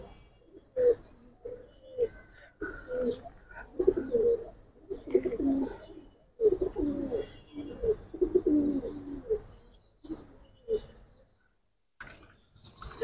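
Giribaz pigeons, a male and female, cooing in repeated low throaty bursts at close range, with short pauses between phrases and a quiet stretch near the end.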